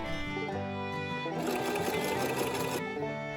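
A sewing machine stitching a linen cotton apron, a close, steady mechanical whir that speeds up into rapid stitching in the middle, then slows and stops, with no talk.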